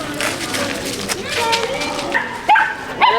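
Dogs bark and yip in a Paris dog park, a few sharp close yelps near the end over a busy outdoor background while people talk.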